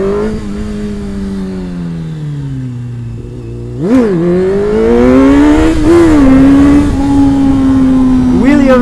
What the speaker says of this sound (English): That was a second gear pull, and I lifted it slightly off the ground